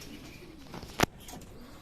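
Racing pigeons returning to the loft during a race give faint, soft coos, broken midway by one sharp, loud knock.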